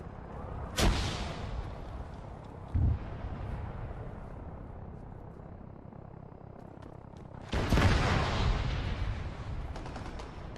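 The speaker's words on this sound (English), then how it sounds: "Throwing a grenade at where I can see that other parachuter just landing" A thrown grenade bursts in the Arma 3 video game during a King of the Hill match: a sharp explosive boom opens, a smaller thump follows, then a second loud blast rolls out over steady wind-like game ambience.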